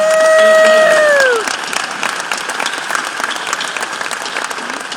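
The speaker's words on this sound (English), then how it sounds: "So let's applaud." An audience applauds the volunteers at an acceptance-speech event. A brief sustained tone sounds first, then steady, full-room clapping continues evenly at moderate loudness.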